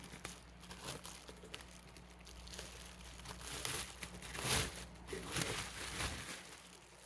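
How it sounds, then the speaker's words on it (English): Plastic packaging is crinkled and pulled off a grow light, an irregular run of close crackling and rustling with small louder crunches scattered throughout. "I'll take it out of its plastic here for now"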